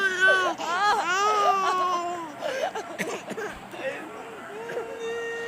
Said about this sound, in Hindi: अब इस आवाज़ के साथ एक छोटे बच्चे की रोने की आवाज़ भी आने लगी